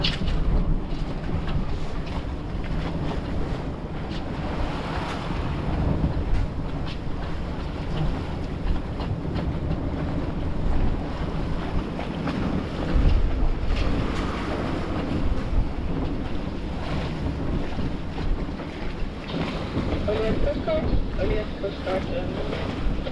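Strong wind buffets a small sailing boat out on open water, a steady roaring rush with gusty microphone blasts and water noise, continuous and loud throughout, no talking.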